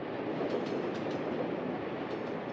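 A crowded train in the postwar Soviet Union rolls steadily along the rails, a continuous rumbling roar with faint rhythmic clicks, no voices.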